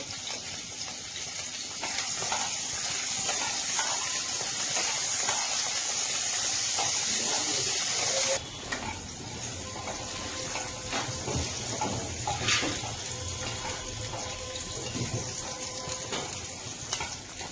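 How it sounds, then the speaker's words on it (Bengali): Cauliflower florets fry in ghee in a kadai, giving a steady loud sizzling hiss that runs throughout with small crackles, and it turns slightly rougher partway through. "এবার আমি ফুলকপিগুলো ভেজে নেব।"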